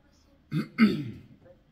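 A close, quiet throat clearing in two short rasping bursts, then silence.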